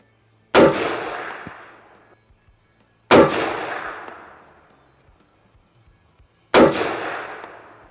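A POF P415 Edge AR-15 rifle fires AAC ammunition: three loud, sharp shots spaced a few seconds apart, each followed by a long echoing decay outdoors.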